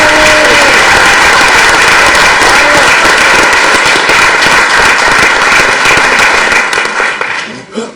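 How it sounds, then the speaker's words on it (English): A courthouse audience gives a loud, sustained round of applause for Employee of the Year honorees at a county commissioners court meeting, with dense clapping that fades out at the end. "Please give them one last round of applause."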